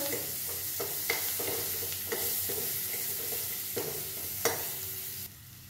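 Chopped onion sizzles steadily in a pan for a green moong bean curry, a loud continuous frying hiss broken by occasional stirring scrapes and taps before it cuts off near the end.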